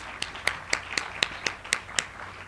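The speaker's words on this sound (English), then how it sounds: "A big round of applause for them, please." Sparse, distinct claps from a small audience at a UNDP Timbuktoo and UJ UniPod launch event, applauding security and emergency staff; single sharp hand claps land in a steady rhythm, about four per second, with quiet gaps between them.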